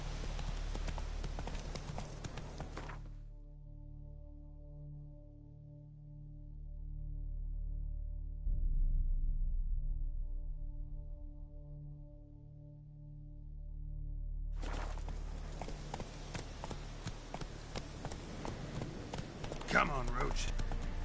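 Roach, a horse in the video game The Witcher 3, gallops with steady clip-clop hoofbeats that come and go, broken by a stretch of quieter music-like tones in the middle.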